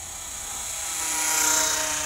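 The electric motor of an Eachine Mini P-47D Bubbletop warbird, a 500mm-wingspan EPP foam RC plane, runs at full throttle. A steady, close, high-pitched buzzing whine swells slightly in loudness, with no talk.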